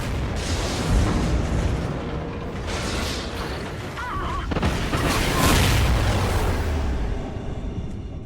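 A space station explodes in the video game Call of Duty Ghosts, a loud sustained rumbling blast with bursts and crackling debris, swelling around the middle and fading near the end, with no talk over it.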